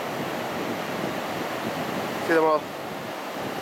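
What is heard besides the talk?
ocean waves and wind at a Gold Coast beach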